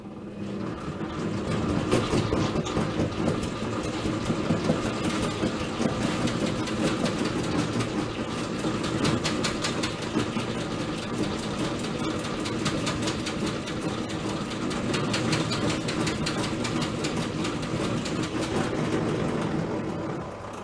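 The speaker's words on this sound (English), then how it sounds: "One has more honey in it than the other one, and as a result it gets a bit wobbly as we spin around." A honey extractor spins two unevenly weighted frames of honey, giving a continuous mechanical rumble and rattle with a fast, wobbly rhythmic clatter, steady and fairly close throughout.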